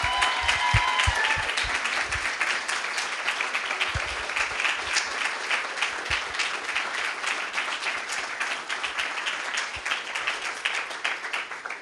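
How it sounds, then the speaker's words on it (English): A crowd at a De Montfort Students Union election results night in 2016 applauds the winners, dense sustained clapping with a few sharper nearby claps at the start, steady and fairly loud. "So let's have a massive round of applause for the guys in front of us."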